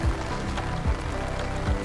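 Heavy rain pours down on a farm field during rice sowing, a dense, steady hiss close by with a few dull low thumps and no voices.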